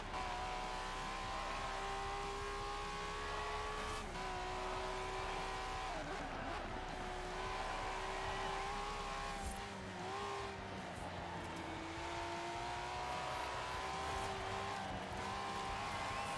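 An Acura NSX race car in Forza Horizon 4 runs a lap, its engine droning and shifting pitch through long sweeping corners with occasional tire squeal, steady and prominent throughout.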